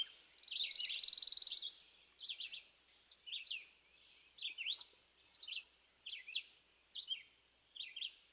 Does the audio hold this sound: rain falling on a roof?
no